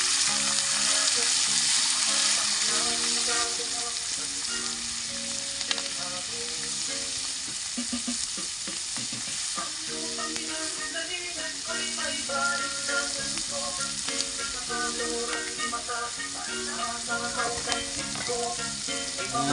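Snails sizzling as they cook in a pan for Filipino adobo, a loud steady crackling fry with stirring scrapes and faint tonal music underneath throughout.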